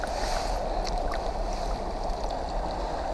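A cutbow trout is released underwater into a stream, with steady close rushing water and faint bubbling throughout.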